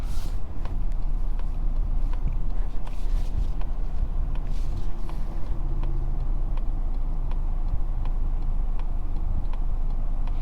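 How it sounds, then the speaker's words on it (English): A 2022 Mazda 3 Turbo Hatchback Premium driving in normal mode, heard from inside the cabin: a steady, close low rumble of engine and road noise runs throughout, with faint regular ticking and no talking. "we're setting off in the Mazda 3 Turbo. Now we are starting out in its normal mode"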